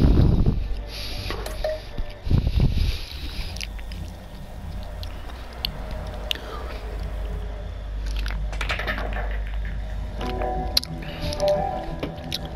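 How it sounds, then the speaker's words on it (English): Chewing and squishy mouth sounds from someone eating dinner, close and fairly soft, recurring in irregular bursts over a steady background of game sound with no talk. "I'm having my dinner right now, so apologies for the chewing"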